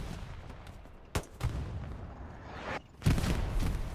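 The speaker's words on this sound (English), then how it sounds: "Inzib already shooting" Gunfire in Hell Let Loose during a tournament match: a few sharp distant shots and booms over steady battlefield rumble, with a heavier burst near the end.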